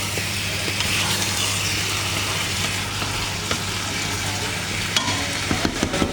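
Food frying in a pan crackles and sizzles steadily while being stirred, with a few light clinks of the utensil against the pan near the end, close up and continuous.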